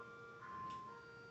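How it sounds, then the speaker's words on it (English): An ice cream truck plays its jingly tune in the background, distant and faint, a steady electronic melody over a low outdoor hum. "sorry for the ice cream truck in the background. But at least it's a happy tune"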